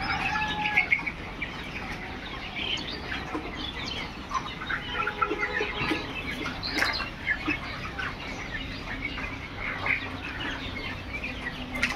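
Many layer-hen pullets on a poultry farm cluck and squawk continuously, close and busy, with occasional wing flutters among the flock and no talking.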